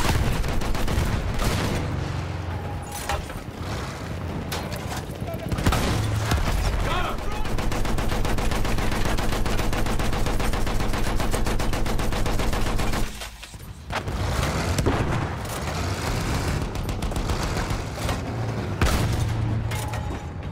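Gunfire and artillery in the World War I shooter Battlefield 1: dense, sustained rapid-fire bursts with heavy booms, loud and continuous, briefly dropping away midway before resuming.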